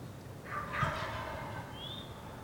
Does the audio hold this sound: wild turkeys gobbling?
yes